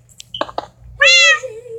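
Minecraft cat meowing in the game: a single drawn-out, rising-then-falling meow, loud and close, following a couple of short soft clicks or taps.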